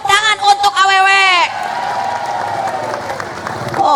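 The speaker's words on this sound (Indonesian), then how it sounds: "yes tepuk tangan untuk awewe" A crowd at a religious lecture celebrating the Prophet's birthday, where someone speaks loudly before the audience breaks into applause and cheering that carries on as a dense, steady wash.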